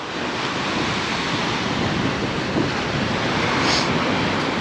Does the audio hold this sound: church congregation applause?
no